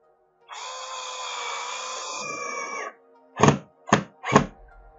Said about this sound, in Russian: вгоню туда саморезик.